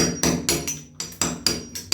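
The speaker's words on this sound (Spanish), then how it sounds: "Ahora con la ayuda de un cincel y el martillo tenemos que remover" Hammer striking a chisel to chip old tile mortar off a wall, seven or eight sharp metallic blows at a steady rhythm, close and clear with no talking.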